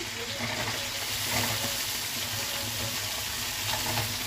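Ivy gourd pieces fry in hot oil with cumin and fenugreek seeds, giving a steady, dense sizzle that stays loud and even throughout with faint stirring underneath.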